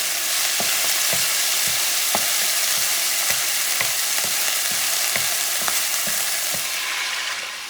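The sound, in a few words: stirring sazon mixture with annatto oil in a pan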